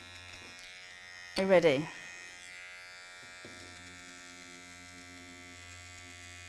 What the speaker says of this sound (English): it's just shaving away at the stitches, but it's not touching the fabric, it's just the stitches